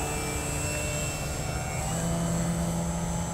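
An AMR 60 RC biplane hangs in slow, hovering flight, its engine giving a steady, continuous drone at moderate distance with a sustained tone that rises slightly partway through.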